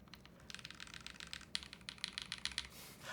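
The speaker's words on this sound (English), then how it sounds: "keyboard sounds and feels great with no foam" Rapid, quiet clacking keystrokes on a Class80 custom mechanical keyboard built without foam come in a steady typing rhythm, close and alone.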